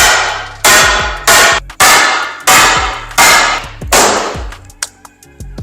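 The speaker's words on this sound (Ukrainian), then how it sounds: "Фінальний інструмент металевий молоток." A metal hammer strikes tempered glass six times in loud, sharp clanging blows, followed by a few faint clinks and rattles as it settles.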